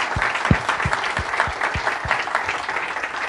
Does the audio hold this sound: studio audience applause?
yes